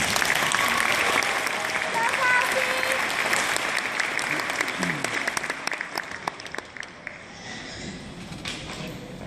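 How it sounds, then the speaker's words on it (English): Audience applause at a PTA Reflections event after a girl's original song on guitar, a dense clatter of clapping that holds steady, then thins and fades toward the end, with some voices mixed in. "Can we please give her a round of applause?"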